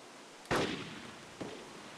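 Makarov pistol fire in DayZ: one sharp, fairly faint crack followed about a second later by a weaker second report, against a quiet background.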